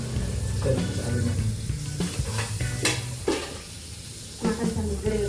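Angus beef sizzles on a grill, a steady loud crackle with scraping and stirring strokes and occasional clinks of utensils, close by and without talk.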